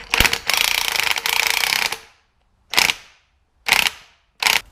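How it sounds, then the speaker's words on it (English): An impact wrench tightens a rear shock absorber nut on a Chevy Malibu. It gives one long rattling burst of about two seconds, then three short sharp hammering bursts, close and loud against a quiet background. "I'm just going to zap it on with the impact because tight is tight."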